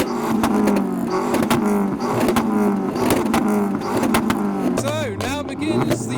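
Modified cars rev their engines in a rev off at a car show, loud continuous engine roar with repeated rising and falling revs up close, while crowd voices and talk sit underneath.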